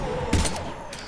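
Gunfire in Mass Effect 3, a short burst of shots near the middle with a fainter shot near the end, set over steady game background noise.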